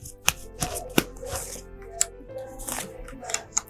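Tarot cards shuffled and three drawn from a deck for a weekly horoscope reading, close, quick papery riffles and flicks with a few sharp card snaps.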